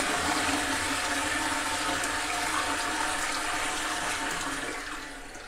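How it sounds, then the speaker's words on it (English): A powerful toilet flush in a Norwegian bathroom: a loud, close rush of water that holds steady for several seconds, then begins to taper off at the end. "is that not the most intense flush you've ever seen?"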